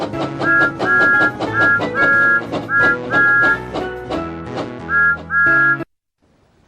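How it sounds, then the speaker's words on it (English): Thomas the Tank Engine's whistle sounds in a Wii video game over bouncy, loud game music. It gives several bright, tuned two-tone toots in quick repeated bursts, then stops abruptly into silence. "Pull down on the Wii remote to blow the whistle."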